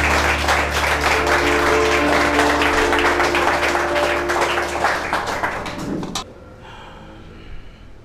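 A church congregation applauding in praise, dense sustained clapping with some voices and music underneath, loud and close, then cutting off abruptly to a quiet room.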